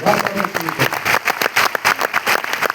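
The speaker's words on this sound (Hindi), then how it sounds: "जोरदार तालियां बजाओ" An audience at a Jashn e Kashi speech event claps in a dense burst of applause lasting a few seconds, the crowd's clatter loud and continuous.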